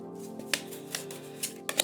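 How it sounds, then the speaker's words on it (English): Tarot cards are shuffled by hand in a quiet room, heard as a few faint, crisp papery clicks and brief riffles scattered across the moment, with no voices. "I think that was 3 shuffles."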